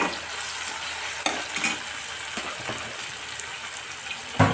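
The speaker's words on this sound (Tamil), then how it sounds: "பச்சை மிளகாவும் நல்லா வதங்கிட்டோம்." Slit green chillies sauté with mashed tomato and onion for a wedding-style potato masala, a steady near sizzle marked by occasional scraping stirs and a couple of sharp knocks, with no talking.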